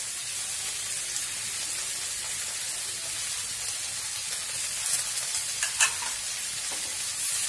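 Bitter gourd and gram-flour masala with coriander, fennel, mustard, amchur and salt sizzles steadily in a pan, a spoon scraping and stirring through it with a few sharper clinks near the end.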